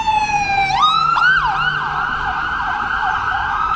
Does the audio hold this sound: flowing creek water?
no